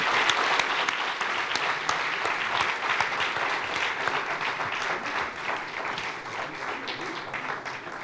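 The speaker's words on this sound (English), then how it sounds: "I think you should give another applause to them" A conference audience applauds, dense steady clapping that carries on throughout and gradually eases off toward the end.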